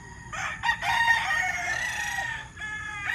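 Stag roosters kept for selection crow nearby, one long cock-a-doodle-doo overlapping with another, bright and loud against a low background rumble.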